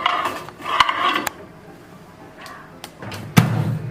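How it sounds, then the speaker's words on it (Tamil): Metal baking tray set inside a microwave oven, a few sharp clanks and thuds spaced apart, close and fairly loud, ending in a heavier knock with a brief scrape. "இப்போ இந்த பேக்கிங் ட்ரேவை நம்ம மைக்ரோவேவ்க்குள்ள வச்சிடலாம்."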